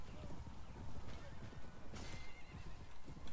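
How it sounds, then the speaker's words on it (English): A horse neighs in the video game Mount and Blade: Warband amid a busy, noisy mix of hoofbeats and background sound, with a voice faintly present. "That's a horse."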